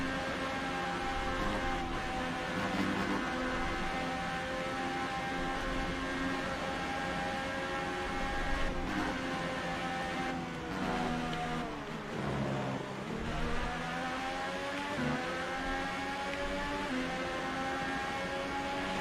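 A Red Bull Formula 1 car in a racing game screams along at high revs in its high engine mode, a steady loud harmonic whine with brief dips and rises as gears shift.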